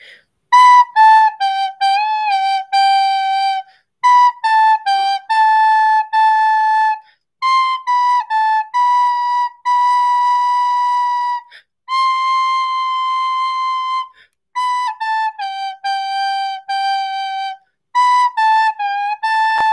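Recorder playing the melody of a pop song, with clear, pure whistle-like notes in short phrases broken by brief pauses, heard alone and close up.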